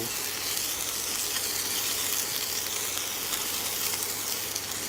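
Onions for an omelette frying in a pan, a continuous, even close-up sizzle and hiss that holds steady throughout with no talking.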